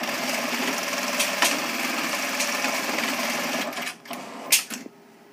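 A Juki AMS221E sewing machine stitches a small label held under a label clamp, a steady rapid mechanical chatter for about four seconds, then a few sharp clacks and a short burst as it stops, with no talking.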